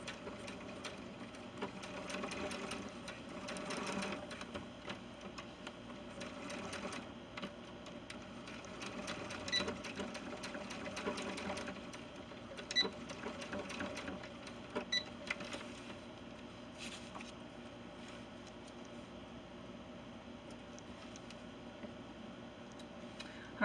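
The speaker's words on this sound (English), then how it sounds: "that's where we're going to sew to, and then I'm going to back tack there to secure that" A sewing machine stitches the seam of pants for a 70 cm male ball-jointed doll, running as a steady, moderately quiet mechanical whir with faint ticking, and a few small clicks and changes of pace along the way.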